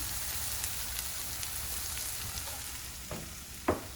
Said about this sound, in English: I'm going to cook this with the taco seasoning